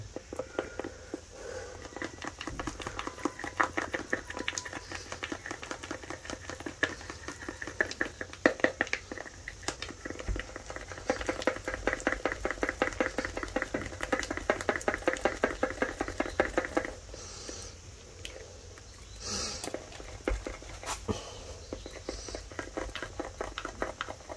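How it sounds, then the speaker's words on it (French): A spoon stirs a homemade gesso mixture in a container, scraping and patting in a steady, continuous rhythm, close and moderately loud, with brief pauses and no talking. "Vous remuez, plus ça devient lisse"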